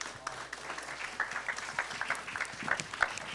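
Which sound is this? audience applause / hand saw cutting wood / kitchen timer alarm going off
audience applause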